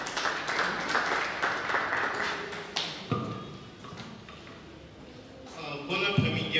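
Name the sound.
audience applause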